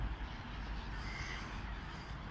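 Crows cawing outdoors, several harsh calls rising above a broad, steady wash of outdoor noise, fairly distant and without speech.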